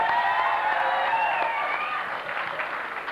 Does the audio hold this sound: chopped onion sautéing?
no